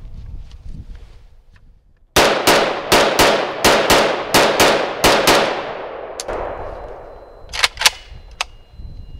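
An M1A SOCOM .308 rifle fires a rapid string of about ten loud, sharp shots with ringing tails, then, after a short pause, three more spaced shots.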